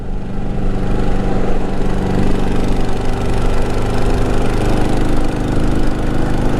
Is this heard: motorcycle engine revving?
yes